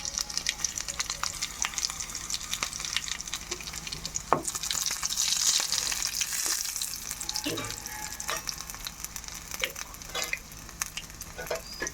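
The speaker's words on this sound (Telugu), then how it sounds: "నూనె మరిగిన తర్వాత వెల్లుల్లిపాయలు దంచుకొని వేసుకోవాలి, 3-4. ఇవి కొంచెం వేగిన తర్వాత ఎండుమిరపకాయలు మధ్యలో కుచ్చుకొని వేసుకోవాలి." Crushed garlic cloves and dried red chilies frying in hot oil for a carissa (vakkaya) dal tempering, a steady dense sizzle and crackle with occasional sharper pops, close and continuous without talk.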